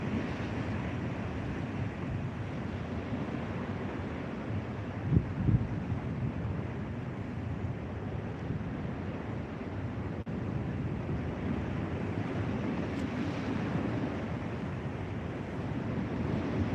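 Steady wash of choppy open water around a fishing boat, a faint continuous rush of waves and wind with a couple of brief knocks, no voices.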